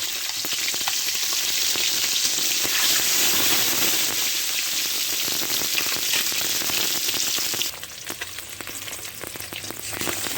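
Eggs rubbed with salt and turmeric frying in oil, a loud, crackling close-up sizzle that runs steadily, then drops to a quieter fry in the last few seconds.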